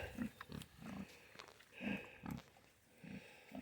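Pigs rooting through ground cover, giving repeated low snuffling grunts in short bursts, close by, with some rustling and faint background noise.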